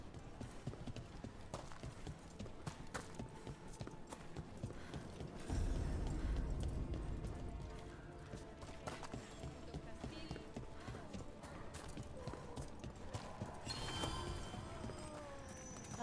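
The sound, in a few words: horse hooves clip-clopping in Dragon Age: The Veilguard video game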